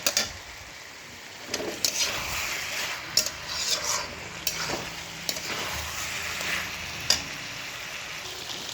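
Pointed gourd and prawns sizzle and fry in a pan, a steady close hiss broken by sharp scraping stirs of a spatula against the metal at irregular intervals, with no talking.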